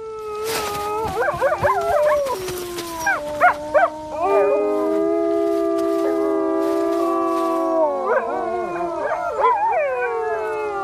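Wolves in the Chernobyl exclusion zone howl in long, sustained overlapping wails, several voices rising and sliding together with short yips and whimpers between, loud and close with no talking.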